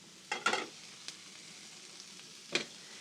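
Red and green peppers with red and white onions sauteing on a griddle, a quiet sizzle marked by a few short bursts as the vegetables are tossed and scraped, close by and without talking.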